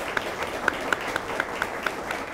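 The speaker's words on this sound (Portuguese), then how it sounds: "Salva de palmas." A small audience claps for a guest speaker at a talk event, light, thin applause with distinct regular claps standing out over a soft wash of hands, fairly distant.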